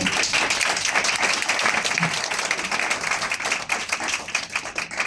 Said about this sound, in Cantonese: 所以俾掌聲你自己啦